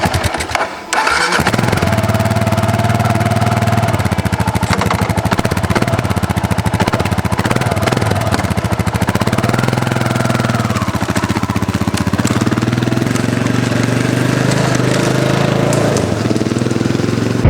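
A Kawasaki KLR650 motorcycle engine fires up after a brief crank and settles into a loud, steady, close-up idle that runs without a break, with no talking over it.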